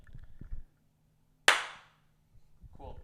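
A single sharp hand clap rings out clearly to sync a podcast recording, with brief murmured voices just before it and again shortly after.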